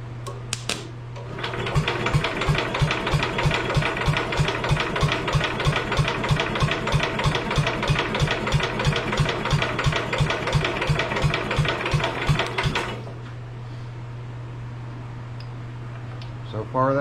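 A small engine with the choke engaged is cranked in a steady, rapid run of rhythmic mechanical pulses lasting about eleven seconds without catching, then quiet hum returns and a voice speaks.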